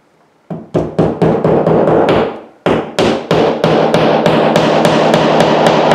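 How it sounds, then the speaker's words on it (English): A floating shelf is tapped into place with a hammer: a quick series of sharp, loud knocks in two bursts, the strikes ringing close and coming faster in the second run. "We put it up on the top like this, and then we just tap it in place."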